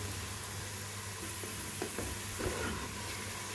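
Onions fry in a pan for daal, giving a soft, steady sizzle with faint stirring scrapes and no voices.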